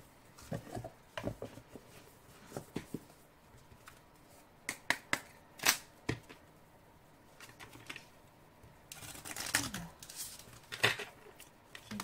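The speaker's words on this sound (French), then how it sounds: "on va continuer avec quelques cartes de l'oracle des mondes invisibles" Oracle cards being shuffled by hand in irregular bursts of crisp flicks and soft patters, some close and sharp, with quiet gaps between the runs and no talk over them.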